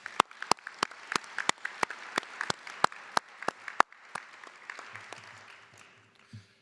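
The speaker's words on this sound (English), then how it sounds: "Let's thank them for their efforts with a round of well-deserved applause." Audience at the LSU College of Art and Design Fall 2023 commencement claps for staff: a sparse run of sharp, distinct handclaps from a small group, steady at first, then thinning and fading out.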